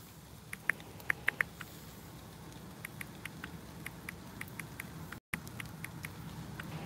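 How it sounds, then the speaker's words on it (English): Rain patters outdoors along a country lane in faint, scattered drops and light taps over a soft steady hiss, with a brief dropout partway through. "It's raining."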